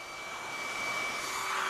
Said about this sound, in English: And I use a blow dryer to warm them up.